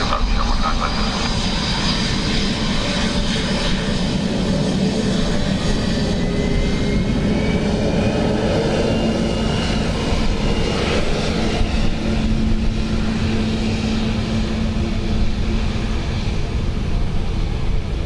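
An Aer Lingus airliner, Shamrock 950, approaching Dublin Airport on a windy day: a steady, loud, droning engine roar that holds throughout, with faint radio voices underneath.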